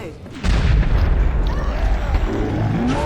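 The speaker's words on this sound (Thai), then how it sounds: "อะไรมันระเบิดวะ" A heavy, booming explosion in the co-op shooter game Killing Floor 2 erupts about half a second in and rumbles loudly for the rest of the moment, with voices faintly underneath.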